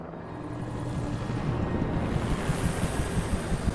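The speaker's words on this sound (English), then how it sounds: "That's an army helicopter." An army helicopter in the video game Alan Wake: the rotor drone builds into a steady, rumbling roar with a rushing, windy wash, growing louder over a few seconds.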